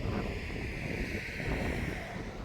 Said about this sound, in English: Getting pretty windy here.